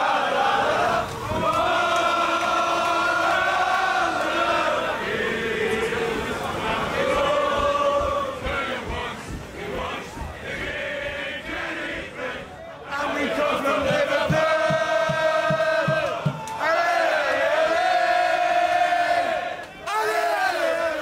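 A packed crowd of Liverpool football fans sings loudly and continuously outside The Park pub near Anfield before a match, with chants swelling and falling, while someone talks over the singing.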